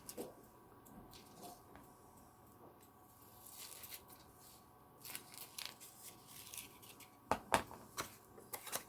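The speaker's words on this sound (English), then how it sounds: "find the best thing for cutting foil is some large scissors" Large scissors snip through craft foil for a card, giving faint, close crisp cuts and rustles that grow into a few sharper snips near the end, with no talking.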